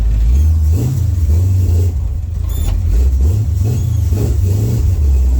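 A car engine revving repeatedly while driving, loud and close, pitch climbing and falling through several throttle surges over a steady rumble.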